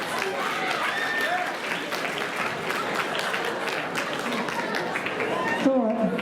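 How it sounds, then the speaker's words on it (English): Audience at a university Howl late-night stage show applauds a volunteer with dense, sustained clapping throughout, voices and cheers mixed in, swelling slightly near the end. "Let's give him a round of applause."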